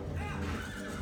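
Horse in Zelda: Twilight Princess HD lets out a short, loud neigh, a brief whinny that fills the moment closely.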